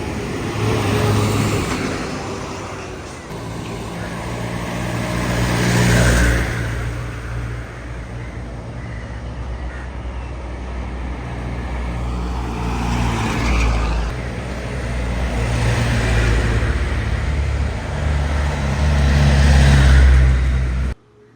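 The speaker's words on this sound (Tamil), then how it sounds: "வாகனங்கள் வந்து வேகமாக போய் கொண்டிருக்கின்றது" Vehicles in a police-escorted ballot box convoy drive fast past one after another, loud engine and tyre rushes swelling and fading repeatedly with a heavy low rumble.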